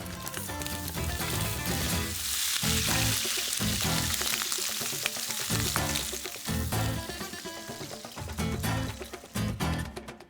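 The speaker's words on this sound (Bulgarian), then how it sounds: "Запържвам кюфтенцата в малко олио." Meatballs fry in a little oil in a pan, with a steady, loud sizzle and crackle and occasional spatters throughout.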